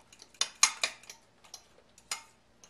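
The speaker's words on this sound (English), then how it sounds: "with all the eggs and the herbs together." Eggs and chopped herbs for Persian kookoo sabzi mixed in a bowl, giving a few sharp, close clinks and scrapes of utensil against the bowl in uneven bursts, with quiet gaps between.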